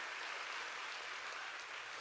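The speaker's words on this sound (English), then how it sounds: "Would you give a big hand clap for them one more time?" An audience applauds middle school students, a steady, even wash of many hand claps heard faintly, as if from a distance, with no talking over it.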